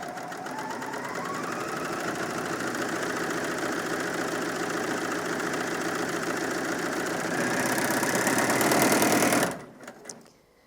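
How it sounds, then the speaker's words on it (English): A Bernina L460 overlocker stitches through two layers of fleece, running in a fast, steady mechanical whir that rises slightly near the end before stopping abruptly, leaving a brief quiet clatter. "This machine's nice and quiet as well compared to a lot of overlockers."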